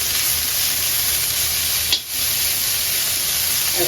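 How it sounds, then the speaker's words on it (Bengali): Leafy greens frying in oil give a steady, even sizzling hiss throughout, with a brief dip near the middle, close and fairly loud with no talking. "শাকটা ভেজে নেবো"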